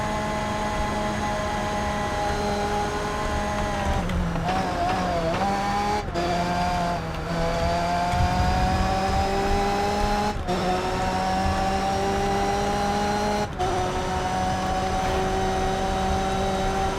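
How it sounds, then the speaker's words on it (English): Formula 3 race car in TOCA Race Driver 3, its engine screaming at a high steady pitch against the rev limiter, with brief dips at gear changes and a continuous loud whine and rushing air. "hitting the rev limiter"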